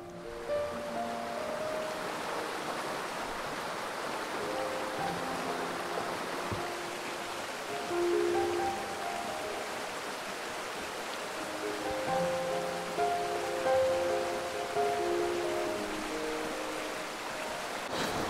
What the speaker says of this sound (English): I hope that you're hearing this and getting it because we're really quite close to the river.